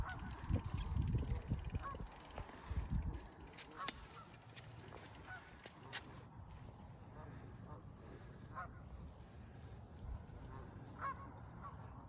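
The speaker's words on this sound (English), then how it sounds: "just gonna have these geese here for a little bit" Geese honking outdoors, a burst of loud calls near the start that settles into scattered honks against a low steady background rumble, with a person speaking at times.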